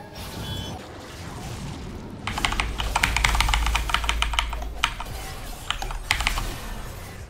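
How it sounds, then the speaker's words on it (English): Rapid typing on a computer keyboard by a League of Legends streamer, close and crisp, coming in dense bursts of clattering keystrokes with short pauses between runs and no talking. "In fact, I have to fucking type to you people."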